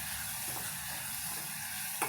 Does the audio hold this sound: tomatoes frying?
yes